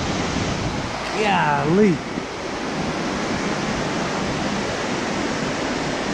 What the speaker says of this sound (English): It's like a little mini Niagara Falls.